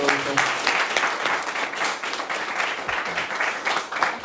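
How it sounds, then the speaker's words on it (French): Church congregation applauding together in steady, dense clapping that fills the space, with some voices mixed in under the applause. "Applaudissons au Seigneur pour la gloire."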